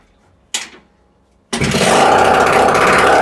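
A moped engine with a freshly changed piston and cylinder and no exhaust fitted is kick-started: one short clattering kick, a second of quiet, then the engine catches and runs loud and steady, rasping close by.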